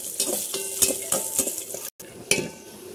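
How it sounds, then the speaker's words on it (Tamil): Cashews and raisins sizzle in ghee while a spoon scrapes and clinks against the pan in quick repeated stirs, close and steady. "முந்திரி திராட்சை பட்டெல்லாம் போட்டு ஒரு கிண்டிடுவோம்."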